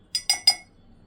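Three quick bright clinks of a metal spoon against a glass while weight loss powder is spooned in, evenly spaced, close and clear with quiet background.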